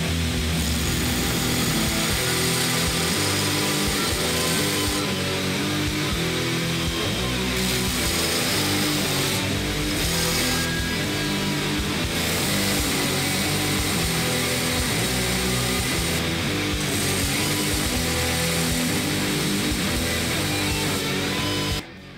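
A belt grinder grinds flat bevels on a heat-treated 1095 steel karambit blade, a loud, continuous abrasive roar that holds steady and close throughout, with no talk.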